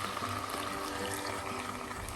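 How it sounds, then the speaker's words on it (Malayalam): Second coconut milk pours steadily into a pot of Naden chicken mappas curry over a high flame, giving a soft, continuous liquid wash heard close and alone. "തേങ്ങയുടെ രണ്ടാം പാൽ ചേർക്കാം."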